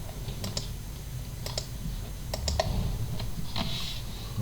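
Computer keyboard typing of a network IP range during network monitoring software setup, scattered keystrokes in small clusters over a steady low background hum, moderately close.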